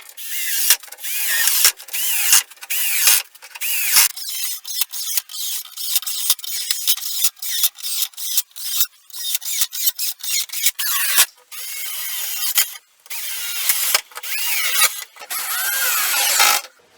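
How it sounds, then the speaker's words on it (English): A power screwdriver drives screws into a tropical wood tabletop from a garden table, with many short bursts of whirring and grinding, stopping and starting in a quick irregular rhythm, loud and close. "And I put in all the screws."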